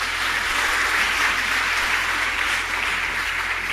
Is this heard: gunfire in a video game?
no